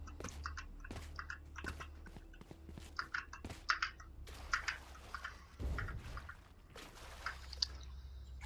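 Typing on a Keychron V1 mechanical keyboard: irregular, close, crisp key clicks and clacks in quick bursts over a low steady hum.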